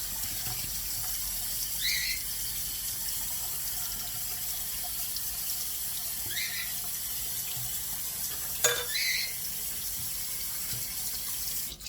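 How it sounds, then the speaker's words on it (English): Cold tap water runs steadily over a hot tomato in a kitchen sink, a constant moderate splashing hiss with a few faint chirpy tones and a brief clatter near the end. "I'm going to put cold water on this because I can't handle it"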